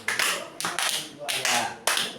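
Five sharp hand claps in a tepuk nyamuk clapping game, each a crisp smack spaced roughly half a second apart, close and loud with brief silences between.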